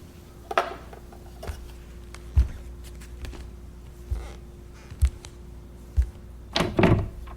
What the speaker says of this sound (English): a sharp rap on the door pulled me from the paint